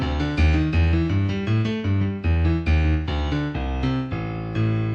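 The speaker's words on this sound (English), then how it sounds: "But the broken octave scale sounds like this." A piano runs a blues broken octave scale, quick alternating low and high notes struck in a steady, even rhythm, loud and close with no talking.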